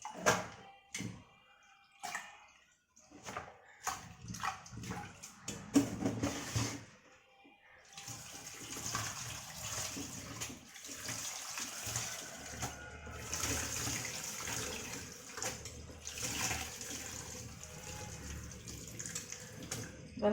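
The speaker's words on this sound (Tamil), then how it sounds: "இப்போ நல்லா திரும்ப அலசிட்டு திரும்ப இந்த மாதிரி மேலாக தான் எடுக்கணும்" Keerai greens are swished and rinsed in a vessel of water, with irregular splashes and knocks at first, then a steady, fairly loud wash of sloshing water running on to the end.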